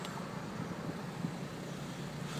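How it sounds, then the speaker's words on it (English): A car driving through Batley, a town in England, gives a steady low rumble of engine and road noise, heard faintly from inside with no talking. "So, driving through Batley now."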